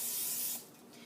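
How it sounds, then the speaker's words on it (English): Cooking spray hisses steadily onto a griddle for about half a second before cutting off, leaving a quieter room tone; no one speaks. "grease the griddle lightly with cooking spray or butter,"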